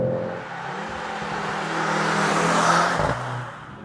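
A 2023 Mercedes-AMG C63 S E Performance sedan drives along with a steady, loud whirring engine and road drone that swells as it accelerates, then drops abruptly near the end.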